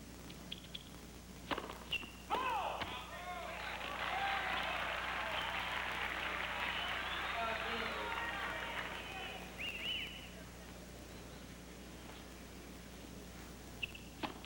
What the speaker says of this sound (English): the crowd cheer that one